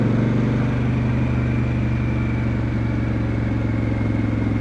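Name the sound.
motorcycle engine revving as the rider gives it gas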